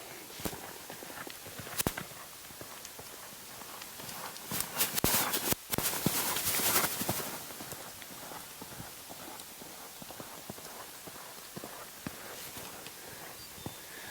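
A horse lopes in a riding session, its hooves beating a steady, soft, fairly distant clip-clop rhythm throughout against a light background hiss.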